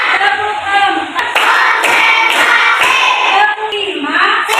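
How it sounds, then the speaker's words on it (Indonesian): A classroom of children clapping hands together in a counted rhythm at the start of a lesson, with a steady run of loud, close claps mixed with chanting voices throughout. "Tepuk 1, tepuk 2, tepuk 3, tepuk 4,"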